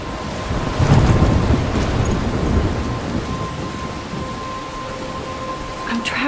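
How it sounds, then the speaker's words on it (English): A storm in the video game Life Is Strange, with a heavy rumble of thunder rolling early on over a constant hiss of pouring rain and wind that continues steadily to the end, loud and close. "I'm trapped in a storm?"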